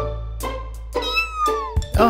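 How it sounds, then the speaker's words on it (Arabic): A cartoon kitten meows in several short, high, bright calls over a steady low hum. A burst of louder voice-like sound comes at the very end. "قطة صغيرة"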